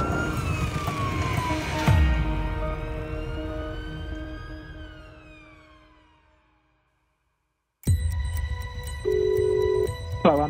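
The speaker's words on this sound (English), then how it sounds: "Blue lights and sirens as fast as they possibly can." A UK ambulance siren wails on blue lights, loud and close at first with a sharp burst, then fading steadily into silence before a different electronic tone and sounds cut in abruptly.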